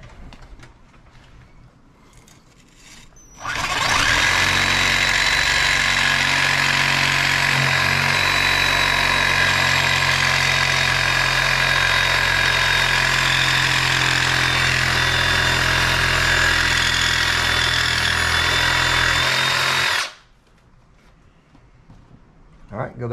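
A power tool blade cuts steadily through material while trimming a Humminbird Mega 360 sonar mount, a loud continuous whine lasting about sixteen seconds before stopping abruptly, with quieter background noise before and after.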